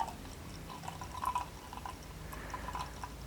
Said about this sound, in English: And I'm gonna try to pour carefully,